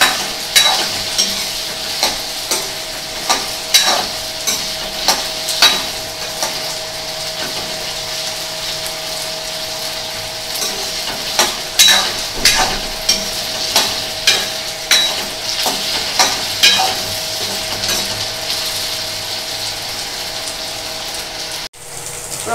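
Potatoes fry lightly in oil in a pan for aloo posto, a steady sizzle punctuated by regular, rhythmic scrapes of a spatula stirring them, close and continuous.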